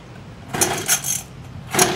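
A small set of motorcycle keys for a mini pocket bike jingles in three short metallic shakes, close and crisp, with no talk over them.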